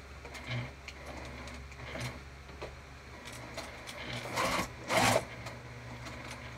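Short, faint bursts of a sewing machine stitching across a crossbody bag strap, with quiet handling noise between them and one louder burst near the end, close by with no talk.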